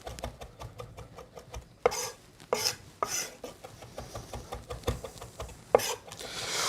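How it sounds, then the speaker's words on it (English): Chef's knife mincing a pile of herbs on a cutting board, a quick, even patter of light blade taps broken by heavier scraping knocks as the pile is gathered, close and alone. "I'm running my knife through my pile of herbs"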